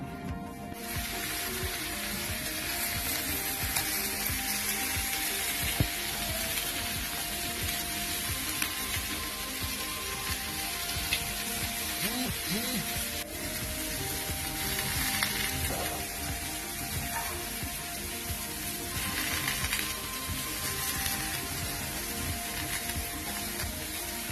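Tilapia rubbed with masala sizzles steadily in a pan, a dense, even frying hiss that runs unbroken and fairly close throughout, with no voices.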